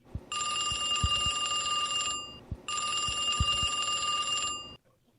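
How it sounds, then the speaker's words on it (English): An old-style telephone bell rings in two long bursts separated by a short pause, loud and near, with faint knocking underneath. "I went to the dining car and made a call to Al"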